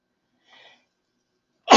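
At a Rosh Hashanah Torah class, a single sharp, loud sneeze bursts out at the very end after near silence and a faint breath.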